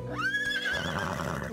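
A cartoon horse lets out one loud, close whinny, rising and wavering as it fades out, heard alone without talk in an animated Bob the Builder episode.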